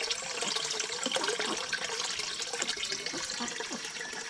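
Water runs steadily from a farm's drinking-water source used for pigs, a continuous bright splashing and gurgling stream, close and moderately quiet with no voices.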